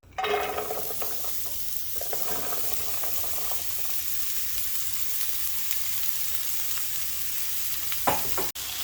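Chopped spring vegetables and onion sautéing in olive oil in a pan, giving a steady close sizzle with a few stirring scrapes early on and a sharp clink near the end.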